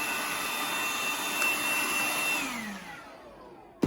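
Vacuum cleaner running steadily with a loud whining drone while cleaning a filter part of a Fresh Air Cube air purifier, then its pitch sliding down as the motor switches off and winds down.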